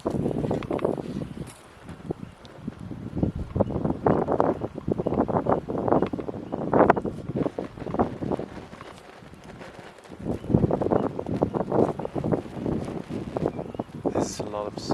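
Strong side wind buffeting a microphone outdoors during archery practice, a steady gusty rumble throughout with scattered thumps and rustles, and a voice speaking over it.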